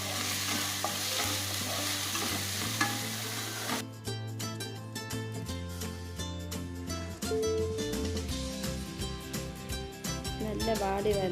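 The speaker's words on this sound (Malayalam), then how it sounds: "ഉള്ളി നന്നായിട്ട് വാടി വരണം. അതുവരെ നന്നായിട്ട് നമുക്ക് ഇളക്കി കൊടുക്കാം." Onions sautéed in a pan for mixed dal fry, a sizzle with stirring that gives way to background music with a steady rhythmic beat, a voice briefly audible near the end.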